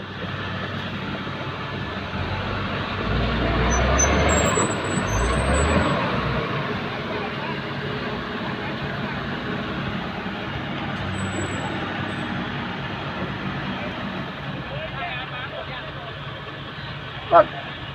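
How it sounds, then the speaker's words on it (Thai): A truck with a Mitsubishi 6M60 turbo engine runs steadily in the background, swelling briefly as it revs, with people talking over it. "นี่แหละครับพลัง 6M60 โบครับ"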